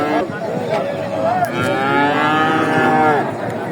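Cattle at a busy livestock market in Bogura, including a Friesian bull, moo in several drawn-out calls up close over a crowded, noisy background with voices.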